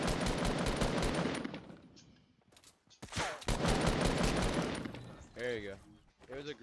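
An assault rifle fires in a video game in two loud, sustained rapid bursts separated by a brief pause, and a voice speaks just after the second burst.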